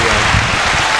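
A short burst of dense applause from a small group on a UFC preview podcast, steady and fairly close, with no clear voices over it.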